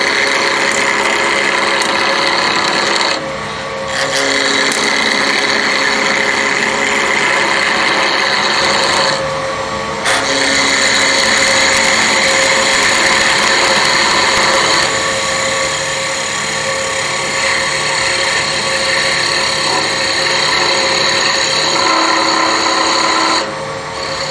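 A wood lathe spins a spindle blank while a turning tool takes roughing cuts to shape it toward a slender cone for a finial. There is a continuous, loud rasping scrape over a steady motor hum, with brief lighter gaps where the tool lifts.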